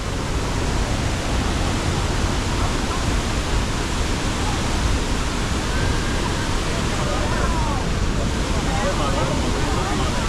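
A waterfall near a rice field thunders as a dense, even roar, loud and close, holding steady without pause for the whole ten seconds.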